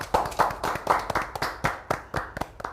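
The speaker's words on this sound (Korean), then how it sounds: "우리 모두를 위해서 큰 박수 치겠습니다" A small group clapping at a history lecture, distinct claps in a loose, uneven rhythm close by, roughly a dozen separate hits with brief gaps between them.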